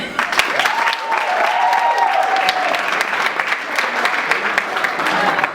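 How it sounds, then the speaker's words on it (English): A poetry slam crowd applauds steadily throughout, dense clapping with a few whoops rising over it. "First off, if y'all could clap it up for Mary Gaden."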